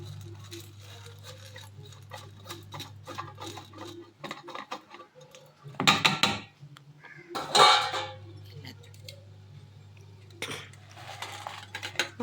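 Roasted spices for homemade sambar powder tipped into a mixer jar, giving two short, close rattling clatters against the jar, with quiet kitchen background in between.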